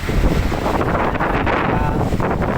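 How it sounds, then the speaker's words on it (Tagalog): Strong wind in Santo Tomas, Philippines, roars steadily into the microphone, a dense low rumble with gusty buffeting throughout and no voices. "Lakas ng hangin dito."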